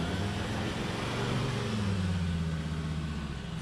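A 4WD with independent front suspension and a rear locker engaged climbs a rutted bush track at Tallarook, its engine giving a steady, moderately loud low drone that rises slightly as throttle is applied.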